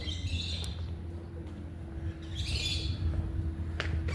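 A bird calls a few times in the open during a road trip across France, brief chirping bursts over a steady low hum of background noise.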